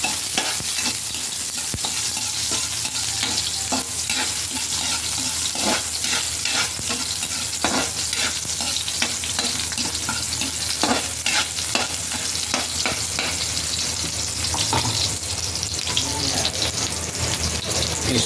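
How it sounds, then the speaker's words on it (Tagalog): Onions being stirred as they fry in a pan, with a continuous sizzle under repeated scraping and stirring strokes of a utensil against the pan, heard close up; a voice briefly murmurs in the background. "At ating halu-haluin."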